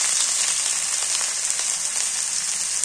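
Steady, bright hiss of onion paste sizzling in hot oil in a home kitchen while river aair fish is cooked, continuous and close with no voices.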